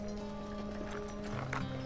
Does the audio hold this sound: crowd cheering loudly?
no